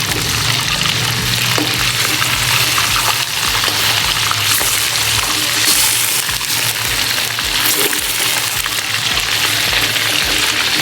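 Fish pieces shallow-fry in a pan for fish korma, making a loud, dense, continuous hiss and spatter that stays close and steady from start to finish.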